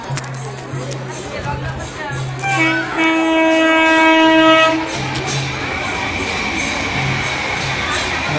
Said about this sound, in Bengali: ট্রেন যাচ্ছে দেখুন।